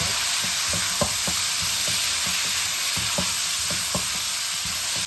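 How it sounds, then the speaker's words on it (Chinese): Celery, green beans and bean sprouts stir-fried in a wok, with a loud, steady sizzle and irregular scraping clatters from the spatula tossing the vegetables, close up and without voices. "再把芹菜和豆角放进来，还有豆芽一块放进来，再次快速的给它翻炒均匀"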